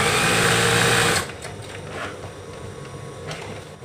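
A sewing machine stitches bed sheet fabric for a fitted sheet, running loud and steady at close range for just over a second before stopping, leaving a quiet room with faint handling noise.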